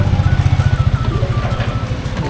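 A motorcycle engine chugs close by with a fast, even low throb along a riverside road at Sungai Lembing, loud and steady throughout.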